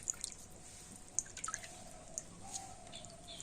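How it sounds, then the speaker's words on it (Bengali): Chhana is squeezed by hand so its water drips out, giving faint, scattered small drips and trickles close by, with no talk over a quiet background. "হাত দিয়ে এরকম চিপে চিপে একটু জলটা বার করে দিতে হবে"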